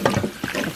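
Hot water running from a kitchen tap to rinse out a bowl, a short burst of splashing and sloshing with uneven bursts, close and fairly soft.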